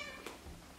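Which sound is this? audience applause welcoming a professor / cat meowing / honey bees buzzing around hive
cat meowing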